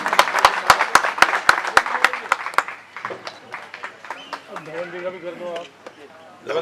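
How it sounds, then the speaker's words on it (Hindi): Rhythmic, evenly spaced clapping rings out to welcome guests at a ward dispensary inauguration in Srinivaspuri, fading after a few seconds as a voice carries on talking. "जोरदार तालियों से स्वागत कीजिए।"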